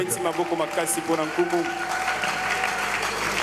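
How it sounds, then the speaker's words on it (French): A church congregation at a Sunday sermon applauds, a loud crowd of clapping mixed with shouting and cheering voices. "Acclamons très fort pour le roi."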